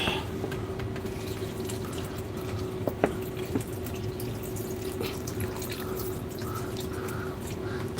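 Cannabis plants dunked into water mixed with silica nutrient in a garage, giving a steady soft trickle with a few sharper drips and splashes scattered through, close and without speech.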